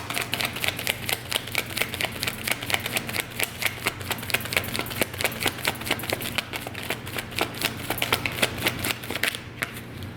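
Tarot cards being shuffled by hand, a rapid, steady run of soft crisp riffling clicks close up and fairly quiet, with no talking.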